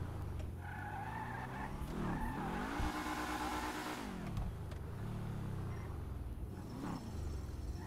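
Sports car braking hard with tires skidding and squealing loudly, the screech rising and falling over a steady engine drone, with no voices.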